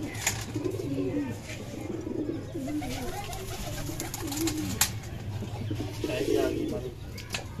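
Several pigeons coo in soft, repeated rolling phrases nearby, with a low steady hum and a few faint clicks in the background.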